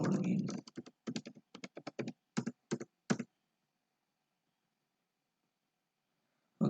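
Quick bursts of keystrokes on a computer keyboard, close and crisp, rattle off in uneven clusters for about three seconds before falling silent.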